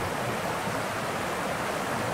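A stream swollen by days of rain rushes past in a steady, dense, loud roar of water, close by and unbroken, with no talking.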